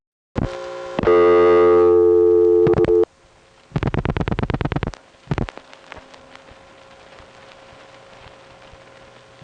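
Telephone line tones dialing back into a phone conference on a vacant Hempstead NY 5166 code line: a loud sustained tone, a burst of dial pulses, another tone burst, then a quiet hum and a faint lingering tone.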